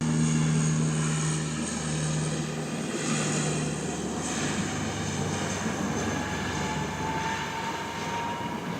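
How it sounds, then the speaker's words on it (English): Q300 turboprop engines at Wellington Airport roar loudly and steadily at close range, with a sustained propeller drone and tonal whine and no voices over it. "Love the sound of those engines on those Q300s."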